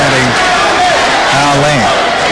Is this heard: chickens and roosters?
no